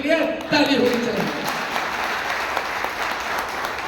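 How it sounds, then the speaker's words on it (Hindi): Sustained audience applause for Laddu Circle and Metaforce Technology at a lively Hindi event, a steady wash of many hands clapping that swells early, then holds at an even level with a voice briefly over it at the start. "और एक बार जोरदार लाडू सर्किल और मेटाफोर्स टेक्नोलॉजी के लिए ताली होनी चाहिए"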